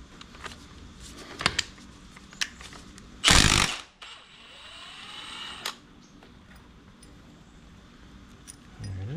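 Rear axle of an Aprilia Futura motorcycle being pulled out during a bearing check, heard as close metallic scraping and clinks among handling noises, with one loud burst of rubbing as the axle slides free.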